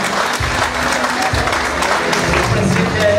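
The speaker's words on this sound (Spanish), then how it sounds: "Fuertes sus aplausos, a ver dónde están." A crowd at a graduation ceremony claps loudly and steadily, sustained applause with low thumps and faint murmuring mixed in.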